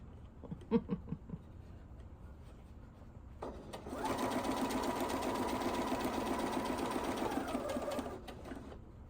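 Sewing machine stitching fabric for an apron, starting after a few light taps and running in a steady loud whir for about four seconds before stopping, alone without talk.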